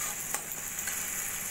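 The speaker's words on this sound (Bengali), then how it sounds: "পোস্তটা 1 মিনিট মতো ভাজা করে নেব তেলের মধ্যে" Poppy seeds frying in oil with salt and turmeric, a soft, even crackling sizzle with one faint tap near the start, close and quiet with no voices.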